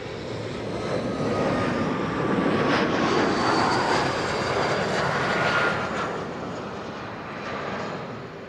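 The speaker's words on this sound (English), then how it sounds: "That was KLM flight 1284, arriving from Aalborg, Embraer 175." A KLM Embraer 175 jet arriving from Aalborg lands at Amsterdam Schiphol, a moderately loud engine roar that swells in the middle and fades slightly, heard alone without talk.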